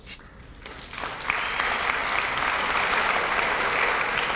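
An audience at a talk breaks into applause that swells after a second and then holds as a broad, continuous wash of clapping, fairly distant and with no speech over it.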